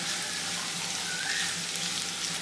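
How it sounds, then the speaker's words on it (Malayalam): Pieces of mango ginger sizzle in hot oil in a pan, a steady, even frying hiss held close throughout with no voices. "എണ്ണ ചൂടാകുമ്പോൾ നമ്മൾ മുറിച്ച് വെച്ചേക്കണ ഇഞ്ചി മാങ്ങ ഇട്ട് കൊടുക്കാം"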